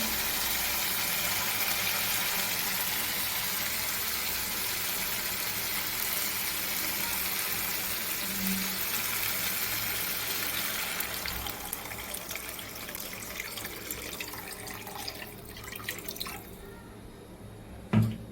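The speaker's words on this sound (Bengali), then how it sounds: "এবার আমি দিয়ে দেবো জল।" Water is poured into a pan of spicy katla fish curry, a continuous close rush of splashing liquid that thins and fades toward the end, with no speech.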